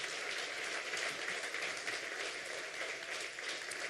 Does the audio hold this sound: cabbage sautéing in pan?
no